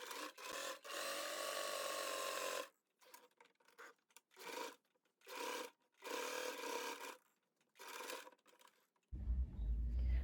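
A sewing machine runs a line of stitching alongside the zipper of a handmade cosmetic bag, several bursts of fast whirring separated by short pauses, close and clear, ending in a low thump.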